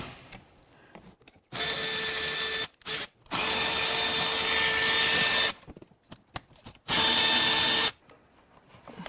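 Impact wrench or power drill spinning off bolts on a high-mileage, totaled Cadillac Escalade, running in three loud sustained bursts of a second or more each, with short pauses and small clanks between them.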